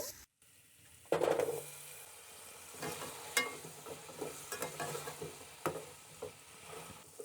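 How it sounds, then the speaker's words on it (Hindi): Potatoes sizzle and fry in a pan up close for chicken biryani, with a sharp hiss as they go in, followed by occasional stirring clinks and scraping. "आलू को हम हल्का सा फ्राई कर लेंगे।"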